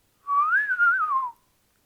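A single clear, wavering whistle rises and falls for about a second, a person whistling to imitate a cat whistling, heard close against near silence.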